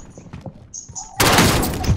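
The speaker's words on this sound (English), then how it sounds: "Oh, he hit me with a shotgun." Shotgun gunfire in the Warzone video game: quiet, scattered game sounds, then a loud, dense burst of close blasts and impacts that carries on to the end.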